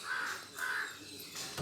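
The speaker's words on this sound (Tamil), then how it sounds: "அந்த காக்கா வேற கொத்துது." A crow caws two or three times in a steady, rhythmic series. The calls are fairly faint and come from some distance, with no talking.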